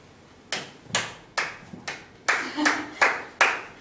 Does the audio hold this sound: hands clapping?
yes